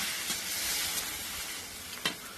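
Sharp sizzling hiss as water hits hilsa fish cooking in a pot on a clay stove, a steady crackle with a couple of brief louder spits near the start and end.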